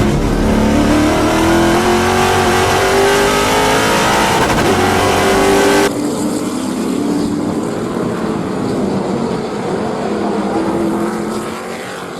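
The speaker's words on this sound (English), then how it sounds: "Adrian Lostowski coming into the braking zone at the end of the corner" TA2 race cars at Road America roar past in a loud, sustained engine howl with rising and falling revs, the pitch shifting sharply midway as the scene changes, no talk heard.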